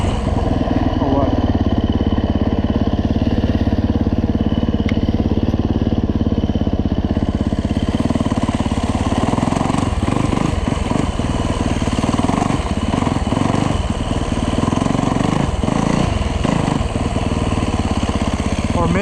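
Yamaha dirt bike engine, a YZ450F or WR250F, running steadily while riding through snow, loud and close throughout with a continuous droning rev and rough fluctuations in the second half; a voice talks over it.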